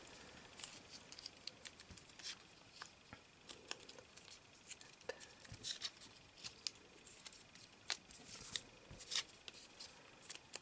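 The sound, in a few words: paper being folded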